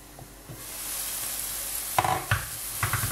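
Vegetables stewing for cabbage in a lidded pan give a steady soft sizzle, broken by a few sharp clanks and knocks of the lid and utensil toward the end.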